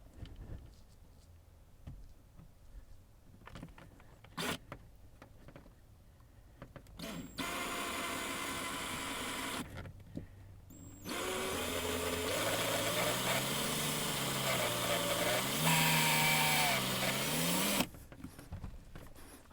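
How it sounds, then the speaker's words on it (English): A drill bores slowly through a plastic dash cover in a 1999 GM OBS truck, whining steadily in long runs with pitch shifts, broken by pauses and clicks, and no voices. "Now you're drilling through plastic, so you want to go slow to begin with"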